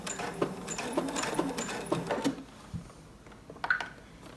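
A sewing machine makes a short run of tack-down stitches while elastic is sewn into a waistband, with quick, faint, close needle taps that then slow and stop, followed by a few soft handling clicks.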